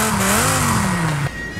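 A Dodge Viper engine in the video game Forza Horizon 5 drones loudly at steady revs, its exhaust note sliding slightly lower before cutting off abruptly.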